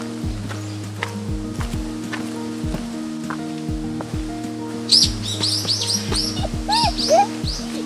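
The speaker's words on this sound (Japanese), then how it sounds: "一周としたら小鳥が鳴いた" Small birds chirp in short bright bursts on a mountain trail up Kayasan, a hill in Japan, with several calls clustered late over steady low background noise.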